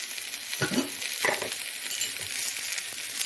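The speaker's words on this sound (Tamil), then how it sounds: "இப்போ வந்து இந்த தக்காளி இந்த பட்டை சோம்பு ஏலக்காய் இதெல்லாம் போட்டுக்கலாம் போட்டு நல்லா வதங்கணும்" Tomato with cinnamon, fennel and cardamom sautéing in a pan for a quick gravy, a steady soft sizzle with two clear scrapes of a spoon stirring near the start, then continuous frying hiss.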